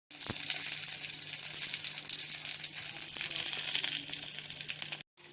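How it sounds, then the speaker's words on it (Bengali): Garlic, onion and chili frying in hot oil in a wok, a steady bright sizzle with a faint low hum beneath, one small clink near the start, continuous until a brief break at the end. "পেঁয়াজ আর লঙ্কাটা ভেজে নেব"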